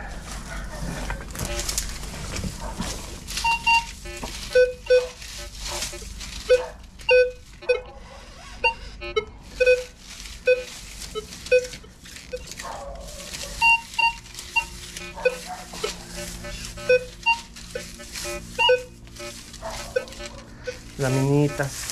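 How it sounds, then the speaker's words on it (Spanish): Repeated short electronic beeps from a metal detector sound in irregular bursts, some higher and sharper than others, over a constant background hiss, with occasional talking. "de repente entran en el pitido agudito, bonito."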